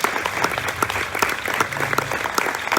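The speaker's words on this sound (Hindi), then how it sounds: "रूहुल कुद्स के लिए, जिसकी वजह से आप हैं, तालियां बजाइए।" A church congregation claps during a sermon in Faisalabad, loud and close, with many hands striking in a busy, uneven patter that swells and dips throughout, and a faint voice murmurs beneath it.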